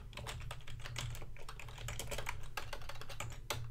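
Rapid, steady keystrokes on a computer keyboard, close and fairly quiet, as a LinkedIn group description is typed out, with no voices.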